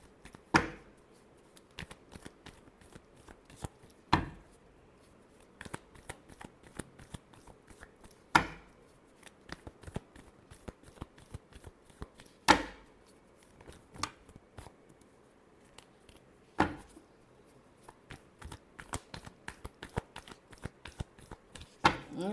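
Tarot cards are shuffled in repeated riffling bursts, with sharp snaps roughly every four seconds between softer rustling, close and fairly quiet.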